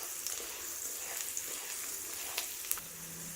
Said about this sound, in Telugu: పోపు గింజలు మంచిగా గోల్డెన్ కలర్లోకి వచ్చేంత వరకు వేయించుకోవాలండి.